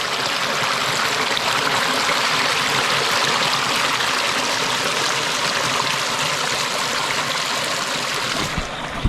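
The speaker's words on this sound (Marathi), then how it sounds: "आवाज बघा फक्त पाण्यासाठी" A rain-swollen stream in rural Konkan flows continuously with a steady, bright rushing and babbling, close and fairly loud, no voices.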